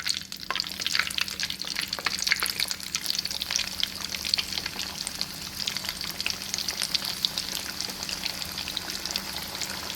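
Small pieces of broasted chicken fry in oil with a dense, crackling sizzle, steady and close for the whole stretch, with light bursts of spatter and no voices.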